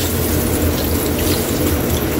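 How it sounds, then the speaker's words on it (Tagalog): Water pours steadily into a cooking pot, a continuous splashing rush that stays loud and even throughout. "Lagyan na natin siya ng tubig."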